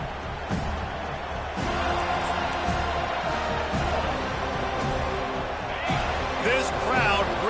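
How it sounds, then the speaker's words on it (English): A packed stadium crowd roars continuously at a college football game between Florida State and Florida, loud and sustained with whoops and shouts, while a commentator talks over it. "This crowd bringing an ear-splitting welcome to their visitors"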